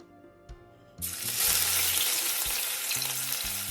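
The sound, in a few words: garlic, pimento seeds, ginger and thyme sautéing in vegetable oil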